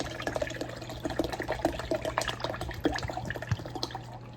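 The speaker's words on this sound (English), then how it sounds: "I'll fill this up to about 3/4 of the way full." Spring water pours into a gallon tea pitcher, a steady splashing fill with scattered drips and plinks over a low hum, close and fairly loud with no talking.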